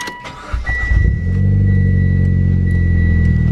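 A 2010 Mitsubishi Lancer Ralliart Sportback cranks for about a second, then its engine catches with a loud flare and settles into a steady, rumbling idle, close by.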